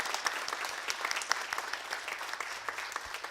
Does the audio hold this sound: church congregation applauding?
yes